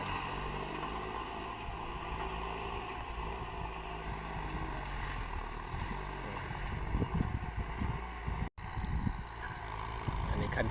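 A boat engine drones steadily and loudly nearby with a low rumble and gusts of wind noise, broken by one brief cut near the end; someone speaks over it.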